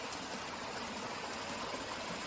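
Clear, clean stream water flows steadily through a rural Konkan setting during heavy monsoon rain, a continuous broadband rush with no pauses, fairly close and even in level.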